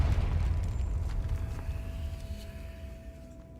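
A Confringo fire spell detonates in Hogwarts Legacy, a heavy low explosive rumble that opens loud and slowly decays over a few seconds, with a faint sustained tone lingering underneath.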